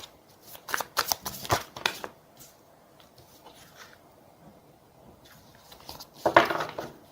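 Tarot cards shuffled by hand, quick papery riffles in short bursts near the start and again near the end, close and fairly quiet with pauses between.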